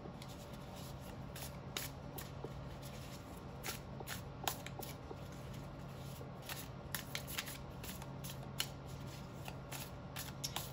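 Tarot cards shuffled and riffled by hand during a reading, soft repeated flutters and taps close up, steady and quiet with no talking.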